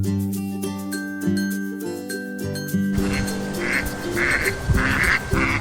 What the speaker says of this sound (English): The Mallard Duck.